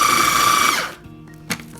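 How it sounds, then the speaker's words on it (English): A food processor whirs steadily as melted butter streams into crumbs for a no-bake cheesecake crust, then the motor winds down and stops, followed by a short clatter. "we're just gonna slowly stream in the melted butter while the food processor is going"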